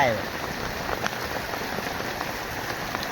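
Rain falls steadily onto surfaces nearby, a constant hiss of drops with light patters throughout, and faint voices sit beneath it.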